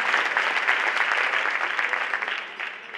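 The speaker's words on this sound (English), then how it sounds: "So you give him a rousing applause." Audience applause fills a women's luncheon, a dense, steady roar of many hands clapping close by that thins slightly toward the end.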